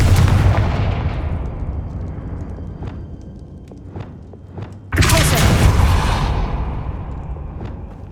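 A Confringo blasting spell goes off in Hogwarts Legacy, a sudden loud burst that hits at full strength, then rumbles and slowly fades. Scattered game impacts and thuds sound before it, over a steady low background.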